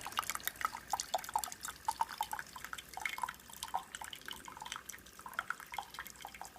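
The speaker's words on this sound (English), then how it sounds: "you'll see now the water is pouring much quicker" Water streams from the needles of a freshly unclogged Keurig coffee machine into a cup, a quick irregular run of trickles and bright splashy drips throughout, close and moderately quiet with no speech.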